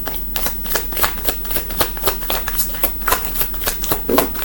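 Tarot cards shuffled by hand in a rapid, even riffling patter that runs the whole time, close and crisp with no voices.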